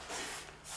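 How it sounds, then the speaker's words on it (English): A spray bottle of soapy water hisses in two or three quick bursts during paint protection film installation on a Toyota Troopy, close and fairly soft, with no voices. "And then I'll spray a bit of soap on that"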